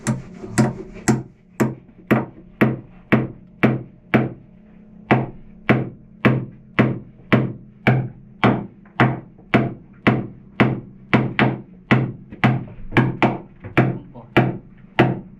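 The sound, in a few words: hammering wood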